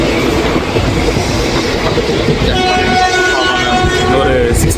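A passenger train runs along the rails with a loud, steady rumble and rattle of wagons. Faint squealing tones rise near the end.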